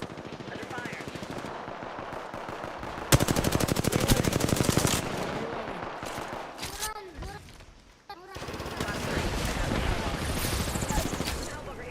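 Gunfire in the video game Apex Legends, with rapid automatic bursts and scattered single shots, loud and close, then quieter, then resuming, with game voice callouts mixed in.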